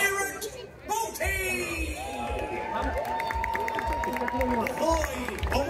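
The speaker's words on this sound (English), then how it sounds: "Please give a big cheer for the one and only pirate, Boaty!" Crowd of children cheering at a live pirate show, excited shouts and whoops rising over a bright, bouncy music track with a steady thumping beat.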